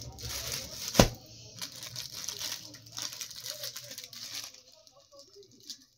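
A knife cuts open a plastic parcel holding an embroidered kurti, with close crinkling, tearing and rustling of wrapping, a sharp snap early on, and then softer intermittent rustles.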